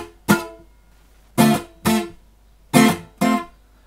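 Five sharp guitar strums in uneven rhythm, each cut off quickly by muting, with short silences between them.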